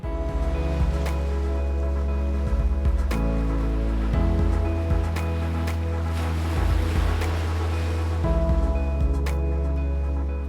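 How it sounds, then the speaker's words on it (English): Steady boat engine drone over a fjord, with low rumbling hum and occasional splashes and wind buffeting throughout. "Being on the fjord itself in a boat was a whole different experience."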